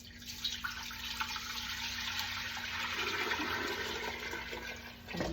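Chicken broth for noodle soup is poured into a pan, a steady liquid splash and gurgle that runs for several seconds, close but fairly quiet, tapering at the end.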